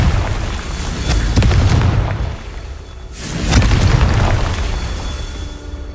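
Fiery Confringo spell blasts explode in the Hogwarts Legacy video game, two heavy rumbling booms with crackling bursts, each swelling then fading over a low sustained roar, loud and close with no talking.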